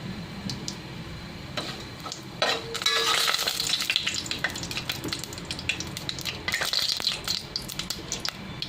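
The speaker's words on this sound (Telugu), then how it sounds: "ఆయిల్ హీట్ ఎక్కింది కాబట్టి పచ్చిమిర్చి వేసేస్తున్నాం" Green chillies dropped into hot oil while cooking veg pulao, crackling and sizzling densely with a swell of spitting after they go in, plus light clicks and rattles from the pan, close and steady with no voices.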